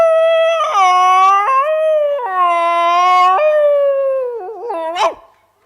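A human voice mimics a dog, holding long, wavering, mournful howls close and loud before ending with a sharp yelp-like bark.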